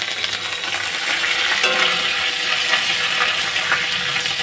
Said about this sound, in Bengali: কারি পাতাটা একটু ভালো করে ভাজবো